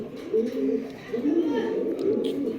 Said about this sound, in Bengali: চলেন দর্শক আমরা অন্য একটা কবুতর দেখাই।